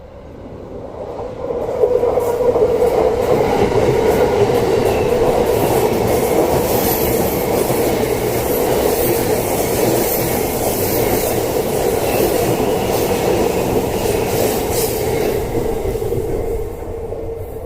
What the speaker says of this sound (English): Here's the Yamanote line train coming.